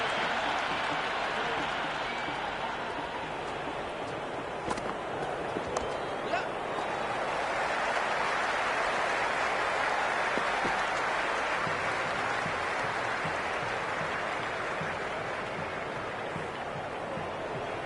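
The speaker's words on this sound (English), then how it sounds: "The crowd is electric right now." A continuous roar of crowd cheering and applause in the cricket video game Cricket 26 fills the whole stretch, loud and sustained with a swell partway through.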